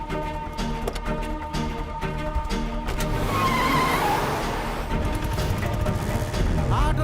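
An auto rickshaw drives along a road, its small engine running steadily throughout with broadband road and traffic noise, and a brief tonal squeal in the middle.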